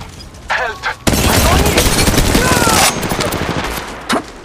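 Sustained automatic gunfire from Apex Legends Mobile, a loud continuous burst lasting about two seconds, trailing into scattered shots, with brief voice calls before and after.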